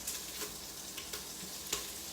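Red onions and garlic frying in cooking oil in a saute pan give a soft, steady sizzle with a few small pops, faint and close, with no voices.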